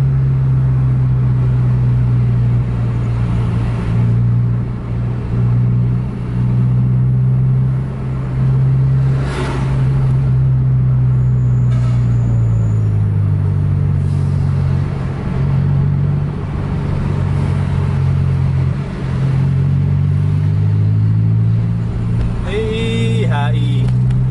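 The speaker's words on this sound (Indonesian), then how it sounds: "ada sekitar 4-5 truk yang harus di overtake sama AW" A bus speeding along the road at around 130 km/h while overtaking several trucks gives a steady, deep engine rumble throughout, with people talking over it.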